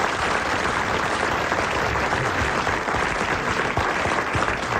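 A French radio or television studio audience applauds steadily, a dense even wash of clapping lasting several seconds with no voices over it.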